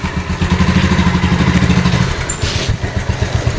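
A Bajaj Pulsar motorcycle engine runs close by, a steady throbbing putter with a rhythmic low pulse and slight clatter, briefly easing before resuming.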